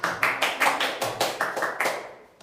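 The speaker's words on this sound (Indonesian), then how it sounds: "berikan tepuk tangan yang banyak" A classroom of children claps together in a steady, unison rhythm, about ten sharp beats in quick succession, close and fairly loud, with no talking over it.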